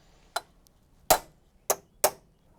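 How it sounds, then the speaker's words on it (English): A hammer strikes a transfer punch against metal four times, sharp close metallic taps spaced under a second apart in a quiet room. "I will hit it with a hammer, transferring the point of this to the metal back here"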